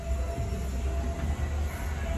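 A train rolls past close by, its heavy low rumble and rattling wheels holding steady and loud with no talking.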